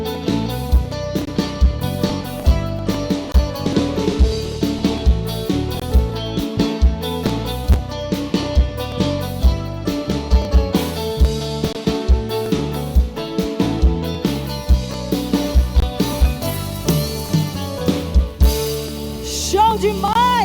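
Live Brazilian band performing on stage, full ensemble with steady driving drums, bass and melodic instruments playing continuously and loud throughout.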